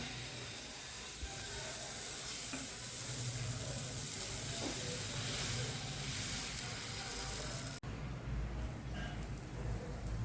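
Dosa batter poured onto a hot pan, giving a steady, loud hiss of sizzling that carries on evenly, then a brief break before it continues slightly quieter.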